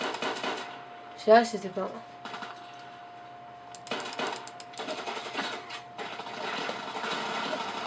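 Semi-automatic pistol shots in the video game Contact Wars: a few separate sharp, clicky bursts fired one at a time, with someone speaking briefly in French.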